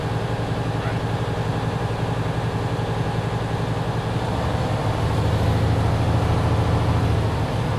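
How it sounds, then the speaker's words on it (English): A truck engine is revved during a pre-trip inspection, a loud, close diesel drone that steps up in pitch and intensity about halfway through, held under 1500 RPM, with no talk. "Me, I'm revving it just to save some time."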